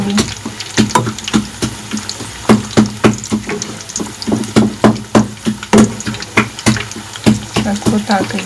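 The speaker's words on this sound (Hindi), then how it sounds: "अब देख सकते हैं मेरे तमाम पकौड़े ऊपर उठ चुके हैं और अब मैं इनको पलट दूँगी" Pakoras are turned over while deep frying in hot oil, with a steady bubbling sizzle broken by frequent rhythmic clinks and knocks of the utensil against the pan, close and fairly loud.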